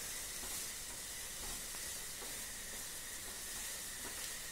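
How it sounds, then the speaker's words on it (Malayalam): Sliced onions sauté in a pan for a Kerala-style squid roast, with a steady, even sizzle and hiss and faint crackles. The sound stays moderately quiet and close, with no talking. "അപ്പോൾ ഇവിടെ സവാള ഏകദേശം വഴന്ന് വരുന്നുണ്ട്."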